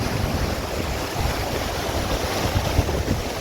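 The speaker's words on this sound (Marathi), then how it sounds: "लाटा कसली असते बघा." Sea waves wash steadily along the Terekhol shore where people are fishing, a continuous roar of surf and wind buffeting the microphone throughout, with no voices.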